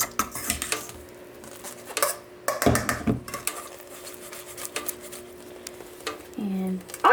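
Flour-coated beef browning in a hot pan for a crockpot stew, heard as scattered clinks and scrapes of utensils against the pan, a soft background sizzle and a brief clatter near the end, with no voices.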